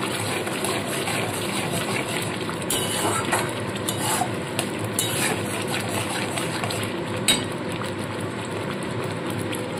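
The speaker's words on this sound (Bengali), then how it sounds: "ভেজে রাখা সমস্ত সবজি এর মধ্যে দিয়ে দিচ্ছি। দিয়ে খুব ভালো করে মিশিয়ে নেব।" Fried mixed vegetables tipped into hot oil in a pan for a vegetarian Bengali mix veg, then stirred, giving a steady loud sizzle with scraping and occasional sharper spatters.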